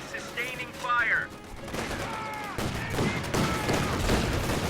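Gunfire at a fighting position in Company of Heroes 2, a US versus OKW battle, with bursts of rapid shots and crackling fire under a voice talking, fairly quiet.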